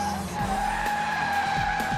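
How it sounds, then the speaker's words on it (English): Cars pushed hard around the Buddh International Circuit in India during a car-of-the-year jury test, with a steady, loud tire squeal over engine drone and changing revs, heard close and continuous. "Our jury members were out burning rubber at India's racing arena."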